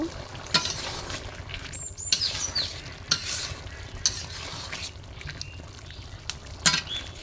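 Fish and potato curry simmers and sizzles on a clay stove, a continuous bubbling hiss broken by sharp stirring scrapes and clinks, with no voices.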